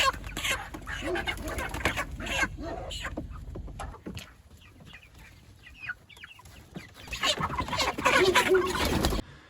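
Hens cluck and squawk in a busy, overlapping chorus, fairly close, with scattered bursts of louder calls throughout.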